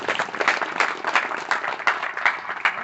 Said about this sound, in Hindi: तो आप लोग ताली बजा दें इनकी सफलता के लिए।